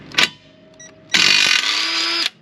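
Impact wrench on a 2004 Pontiac GTO breaking a rear bushing bolt free: a short mechanical clack, then a loud, steady one-second whirring hammer burst that cuts off abruptly, close to the mic.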